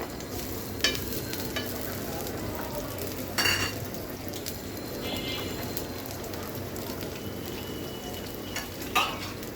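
Shrimp sizzle hard in a hot pan while Thai noodles are being cooked. A continuous frying hiss runs throughout, with a few sharp clinks and scrapes of a utensil stirring against the pan.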